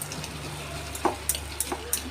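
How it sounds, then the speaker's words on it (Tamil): Cut potatoes are stirred into frying tomatoes in a pan, giving a faint, steady sizzle with a few soft scraping taps of the spoon. "கட் பண்ணி வச்சுருந்த உருளைக்கிழங்கு போட்டு ஒரு 4 பெரட்டி எடுத்துருங்க"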